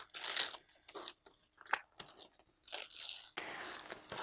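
Siser glitter heat transfer vinyl being weeded after cutting, a series of close, faint crinkly peeling and crackling scrapes in irregular short bursts.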